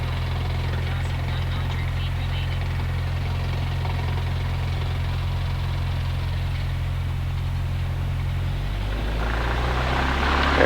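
Cessna 172 piston engine at full power during a rolling takeoff, a steady loud droning hum with low harmonic bands that shift slightly near the end as the plane gathers speed.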